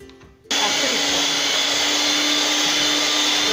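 An electric mixer beating ice cream mixture switches on with a sudden loud, steady whirring drone that runs continuously without pause.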